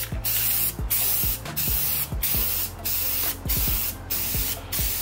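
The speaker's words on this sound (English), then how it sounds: "We're gonna start off by prepping our canvas with a coat of Rust-Oleum Gloss White." Rust-Oleum Gloss White spray paint hisses from an aerosol can onto a canvas in about eight short, close bursts, each hiss separated by a brief pause, with no talking.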